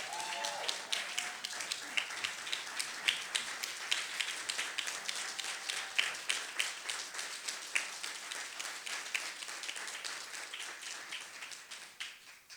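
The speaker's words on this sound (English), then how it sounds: "give Dr. Green a round of applause for all she has done" An audience at a National Black Writers Conference award ceremony applauds Dr. Green, a steady patter of many hands clapping for about twelve seconds, fairly distant and fading slightly at the end.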